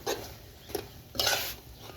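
Holy basil stir-fry being tossed and stirred in a pan, giving three short scraping, sizzling bursts of spatula against metal, the last one longest and loudest.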